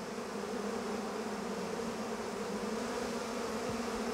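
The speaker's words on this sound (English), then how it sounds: "So these are our malaria mosquitoes. They are very hungry" Hungry malaria mosquitoes in a lab cage give a steady, close, high-pitched whining buzz that holds at one level without pause, with no talk.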